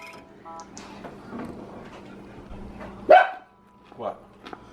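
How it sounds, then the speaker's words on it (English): A dog barks out on a snowy deck during a February snowstorm, with one sharp, loud bark standing out among background voices and quieter household noise. "Henry, if you bark, you're gonna make the birds sing."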